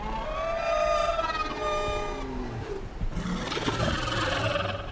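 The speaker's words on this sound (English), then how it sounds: "I love the unique sound design of each dragon roar" Dragons from House of the Dragon roar in stylized fantasy sound design, a long tonal, harmonic wail sliding downward, then a rougher, noisier second roar, loud and continuous with no talk.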